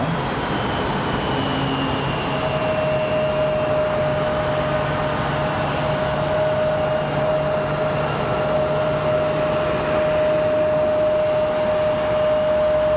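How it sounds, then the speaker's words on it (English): A JetBlue Airbus A320 in new livery taxis out near the end of runway 23 right at Raleigh-Durham International, a steady broadband engine roar with a sustained whine, continuous and moderately near throughout with no talk. "JetBlue 2486, that A320 with the new livery, getting ready to roll out now"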